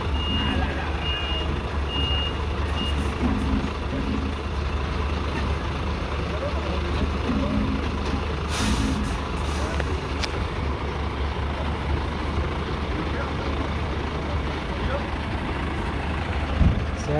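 A large lorry manoeuvres slowly at a French professional truck driving championship, with repeated reversing beeps over a low idling engine rumble, a brief hiss of air near the middle, and voices talking throughout.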